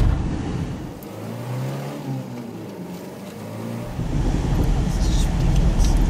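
A car revs while being pulled through snow on a slack tow line, its engine rising and falling in a loud, close, steady drone. Wheels spin, and people talk over it.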